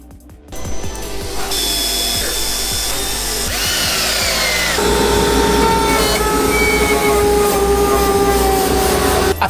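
A router cuts 6x9 speaker holes through a C5 Chevrolet Corvette panel along a template. The loud, close, continuous high whine shifts in pitch as the bit bites, with no talking.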